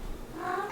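A house cat gives a single short, soft meow, faint and close, with no talking over it.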